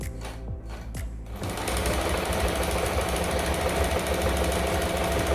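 A Janome 392 sewing machine runs in a steady, fast mechanical whir with rhythmic needle clatter, starting after a few soft clicks and continuing loud and close to the end.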